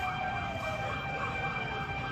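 A fire truck siren wails continuously and fairly faint, sustained tones over background noise at a house fire in San Isidro, Cainta, Rizal.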